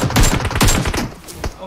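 Gunfire in PUBG Mobile: two bursts of rapid shots, each cracking sharply near the start and then rolling off, with a fainter shot near the end. Voice chat is faintly present underneath.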